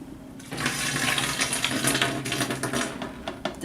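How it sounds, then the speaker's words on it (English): Liquid for a home-brew yeast base pours steadily through a funnel, a continuous splashing gush close by that runs for a few seconds without talk. "we're going to take our funnel and we're going to pour this in."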